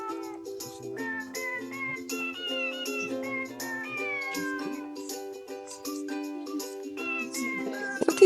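Cat meowing in a temple cat garden, repeated harmonic meows stacked over one another, moderately loud and close throughout with no talk.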